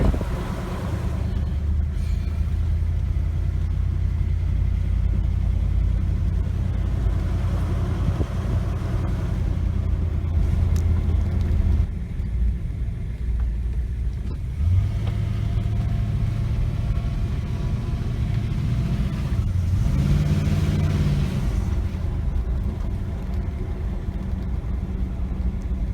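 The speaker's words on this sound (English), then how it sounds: "So I'm driving around the block, get the juices flowing before I shut it off again." A 2011 Ford Fusion with a rebuilt engine, heard from inside while driving around the block: a steady low engine and road rumble with wind noise, occasional shifts in engine pitch and faint interior knocks.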